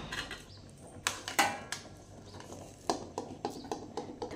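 Spiced potato sabzi scraped from a pan onto a plate in a home kitchen, with soft metallic clinks and spoon scrapes in a loose, irregular rhythm, quiet and close.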